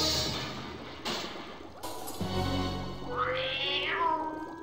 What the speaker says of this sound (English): I think that was Nanny Ogg's cat, Grebo